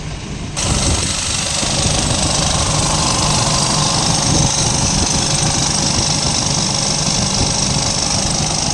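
A car engine idles close by with a steady, rattling low hum that starts abruptly and holds an even rhythm throughout.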